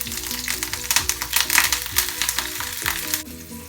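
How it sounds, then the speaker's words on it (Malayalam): Mustard seeds, cut green chili and curry leaves crackling in hot oil for a Kerala fish curry tempering, rapid close popping and sputtering over a bright continuous sizzle that eases near the end. "അപ്പം എണ്ണ ചൂടായി, അതിലേക്ക് കുറച്ച് കടുക് ഇട്ട് കൊടുക്കുക."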